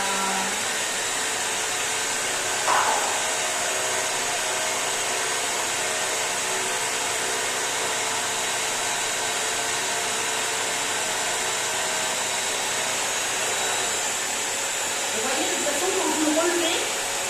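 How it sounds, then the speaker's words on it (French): A Bissell CrossWave PetPro wet-dry vacuum cleaner runs steadily, a loud continuous whirring hiss that holds for the whole stretch, with a faint voice briefly near the end. "On met l'aspirateur et c'est parti mon petit."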